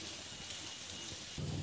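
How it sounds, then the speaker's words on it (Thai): Steady rain falls in Jiufen, Taiwan amid fog, a dense, even hiss with no gaps, close and moderately loud, with no talking. "เพราะว่าวันนี้ฝนตกนะครับ"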